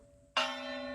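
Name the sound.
church bells ringing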